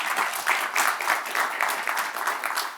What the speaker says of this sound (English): A round of applause for Mohammed.